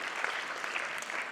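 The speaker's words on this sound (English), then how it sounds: "A big round of applause for all of them" Steady applause from guests at an Arangetram dance debut, a dense crowd of hands clapping evenly throughout without pause.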